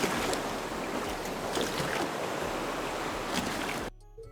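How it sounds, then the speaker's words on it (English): Ocean waves washing and slapping against a boat, a steady, fairly loud rush of water and wind that cuts off abruptly near the end. "I want to hear the ocean, and I'd like to hear the ocean hitting up against the boat"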